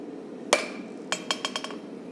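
A hammer strikes a railroad spike knife guard over the horn of an anvil: one sharp ringing blow, then a pause and a quick run of five lighter, bright metallic taps, close and clear.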